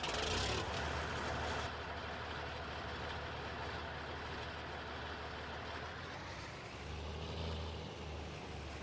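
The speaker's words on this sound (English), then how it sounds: "So I'll just use this tractor." Tractor engine in Farming Simulator 19, running as a steady loud drone with a low rumble throughout, heard alone.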